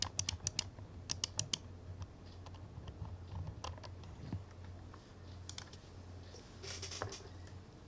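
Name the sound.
typing test on KC84 hot swap mechanical keyboard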